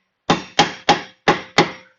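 A hammer taps around the edges of a car's rear brake drum to loosen it: five sharp metallic knocks in an uneven rhythm, close and loud, each ringing briefly before the next.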